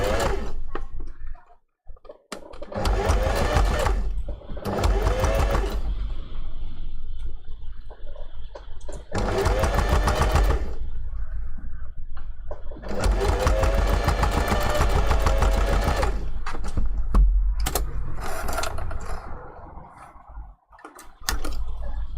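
A sewing machine stitches a fursuit appliqué paw finger pad in several rapid whirring bursts separated by pauses, close and fairly loud, with no talk.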